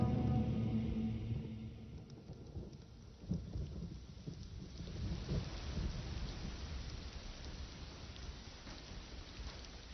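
Steady rain pours down while low thunder rumbles, with a heavier crack partway through, continuing as a broad wash of storm noise.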